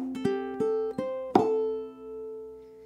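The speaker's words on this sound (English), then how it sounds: "we're going back to playing the same F riff," A ukulele plays the F riff of a song, a few quick plucked notes rising in a short phrase and ending on a ringing held note, close and unaccompanied.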